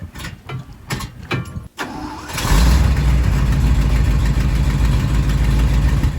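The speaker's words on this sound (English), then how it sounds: "1977 Ford four-wheel drive pickup" A 1977 Ford four-wheel drive pickup cranks with a few uneven starter bursts and a brief pause, then catches and settles into a loud, steady, rumbling idle, close by.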